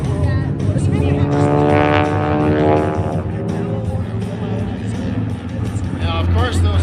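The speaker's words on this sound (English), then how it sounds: "and Drew flying the Mark II, arcing up into the beautiful sky" Propeller airplanes fly in formation at the Oregon International Airshow in McMinnville, a loud continuous engine drone with rising and falling pitch as they pass. An announcer speaks over it throughout.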